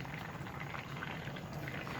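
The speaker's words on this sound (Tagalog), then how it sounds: "Okay, ayan, kumukulo na siya, no?" Fish simmering in a pot, a steady soft bubbling and churning of boiling liquid, quiet and continuous throughout with no voices.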